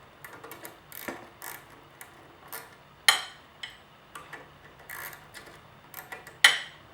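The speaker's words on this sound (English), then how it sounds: "this is a 10mm wrench that you'll need, and you tighten that down" A 10mm wrench tightening a nut on the rear steer assembly of an Amtryke 1412 tricycle, making a series of sharp ratcheting clicks and metallic ticks, close and fairly quiet, with a few louder clacks.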